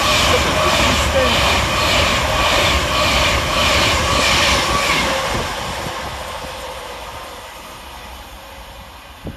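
A Class 390 electric train passes through Stechford railway station, a loud close rush of wheels and carriages that slowly fades away, with a voice speaking over it.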